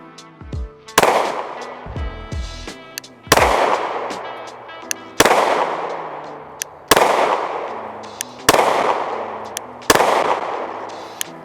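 Handgun shots at a shooting range from the 10-yard line, six loud, sharp reports spaced about two seconds apart, each with a short echoing decay and some faint handling noise between them.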